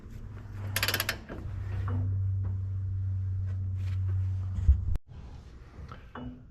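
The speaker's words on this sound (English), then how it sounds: "If you've never used one of these torque multipliers, they are nice." A torque multiplier is worked on the rotor of a Gleaner R52 combine, giving a steady mechanical grinding hum, a few clicks and ratchet ticks, and a sharp clack near the end. The sound is close and moderate in level.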